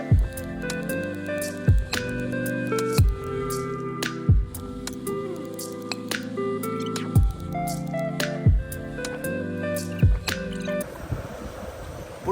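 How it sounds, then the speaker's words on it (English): A knife chops onions into small pieces on a board, about nine crisp, evenly spaced chops with a faint squish of onion between them, close and alone. "So you need to thinly slice the onions, but then chop some thinly sliced and have some in really small pieces"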